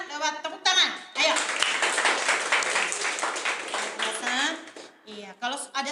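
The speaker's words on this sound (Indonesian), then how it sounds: "berikan kemuliaan buat Tuhan lewat tepuk tangan" Church congregation clapping hands together in a dense, lively burst lasting several seconds, with a preacher's voice speaking just before and after.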